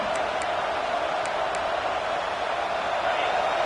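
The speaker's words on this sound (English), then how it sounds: "This crowd bringing the energy and noise early." A stadium crowd at a Clemson vs Virginia Tech college football game roars in a steady, unbroken wash of noise, with a commentator's voice over the top.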